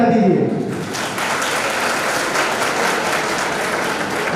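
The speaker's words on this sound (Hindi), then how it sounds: "एक बार आप सभी अपने लिए तालियां बजा दीजिए" A seminar audience breaks into sustained applause, dense clapping from many hands filling the room, with a voice briefly heard at the start.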